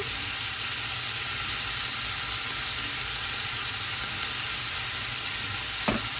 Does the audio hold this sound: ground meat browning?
yes